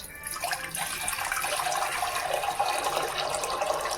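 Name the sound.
water being poured into a container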